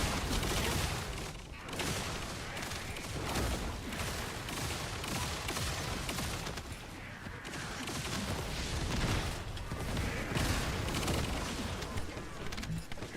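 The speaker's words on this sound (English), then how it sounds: "Everything exploding on the screen." Dense, continuous barrage of explosions and gunfire in the looter-shooter video game The First Descendant, loud and sustained throughout with overlapping blasts and no clear gaps.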